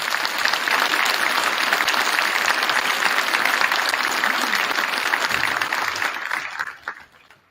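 An audience at a middle school academic recognition ceremony breaks into sustained, dense applause for students just named, holding steady and loud before tapering off quickly near the end.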